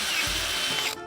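A power drill drives screws into soft cedar boards for a DIY fence, a short, steady whirring burst up close that cuts off sharply near the end.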